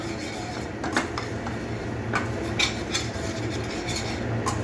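Masala being stirred and roasted in a pan for dum aloo gravy, a spoon scraping and clinking against the metal in irregular strokes over a steady low cooking hiss, close and moderately loud with no talk.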